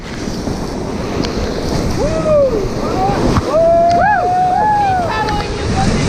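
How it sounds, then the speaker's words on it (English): A raft plunging through a grade 5 whitewater rapid on the Kaituna River, loud rushing water and wind noise throughout, with voices shouting and whooping over the roar. "this is our first rapid here. It's called Killer Death Dive through Fake Holes"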